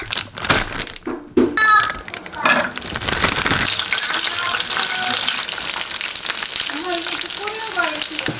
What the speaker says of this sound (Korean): 배달 오기 전에 감자튀김을 만들도록 하겠습니다.